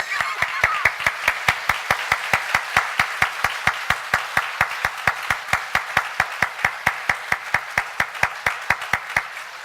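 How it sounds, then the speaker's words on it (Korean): Rhythmic, evenly spaced hand clapping from a church congregation during a Sunday sermon, steady and moderately loud throughout. "박수합시다."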